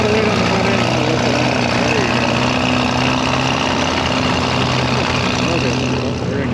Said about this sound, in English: there's also gonna be pretty much 2 cylinders idling all damn day